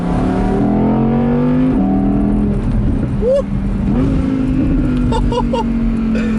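An Audi R8 V10 Plus Spyder engine revs hard and loud with exhaust valves open, the pitch rising and dropping through gear changes, with crackling pops from the exhaust.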